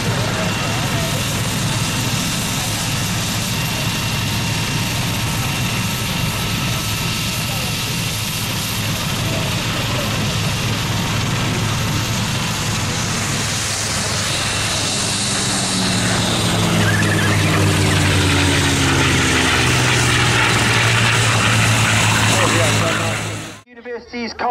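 Rolls-Royce-powered military aeroplane flying past at the RAF Cosford Air Show, a broad continuous engine roar that swells and shifts pitch as it passes, with a commentator talking over it before it cuts off abruptly.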